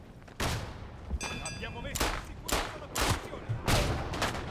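Rifle shots ring out in the video game Isonzo, four or five sharp, loud reports spaced roughly a second apart, with brief beeping tones between the first shots.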